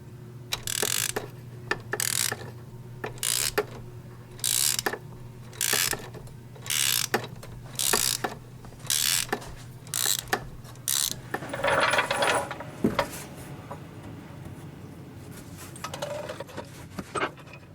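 A hand ratchet works a top bolt deep in the engine bay of a BMW 328i E46 during engine and transmission bushing work, giving close, crisp bursts of clicking in short regular strokes separated by brief pauses.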